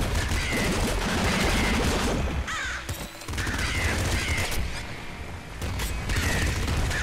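Rapid gunfire from a weapon in the top-down shooter Nuclear Throne, dense rattling shots running almost continuously over loud, busy game sound effects, with brief dips in the barrage.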